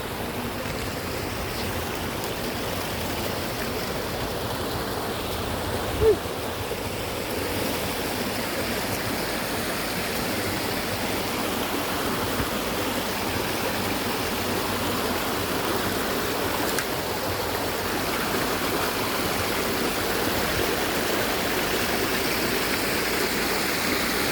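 A shallow river stream at Sitio Sapang Kawayan in Capas, Tarlac rushes steadily as people cross it on foot, a loud continuous wash of flowing water with no break.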